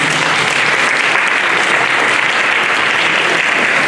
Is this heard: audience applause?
yes